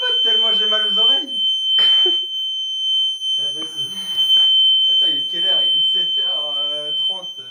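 A shrill early-morning alarm sounds continuously and loudly while people talk and shout over it.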